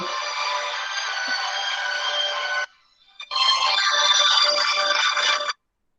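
A mobile phone ringtone goes off during a lecture, a loud electronic melody ringing steadily, breaking briefly, then ringing again before cutting off, with no talk over it.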